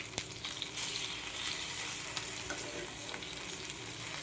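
Fritters (bora) frying in hot oil, spattering hard from water left on the spatula: a steady, close, crackling sizzle throughout with a few sharper pops, and no voices.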